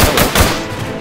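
A gun in the Orion: Dino Horde video game fires a quick three-round burst, several close, loud cracks in rapid succession followed by a short decaying tail, with no talk over it.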